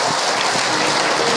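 A brief burst of audience clapping at an Islamic sermon gathering, dense and even like a crowd's applause, lasting just over a second with no voices.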